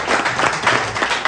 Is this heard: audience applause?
yes